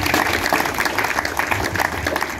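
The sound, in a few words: audience applause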